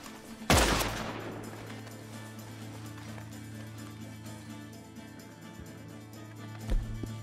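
Video game shootout with one sharp loud gunshot blast near the start, then a low humming game backdrop and scattered fainter shots, another burst near the end.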